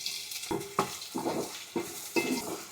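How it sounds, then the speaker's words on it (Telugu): Thinly sliced onions frying in oil in a pan with a bay leaf and shahjeera, a steady close sizzle broken by four or five scraping stirs and light clinks of a utensil against the pan. "సన్నగా తరుక్కున్న ఆనియన్స్ వేసేసుకుందాము."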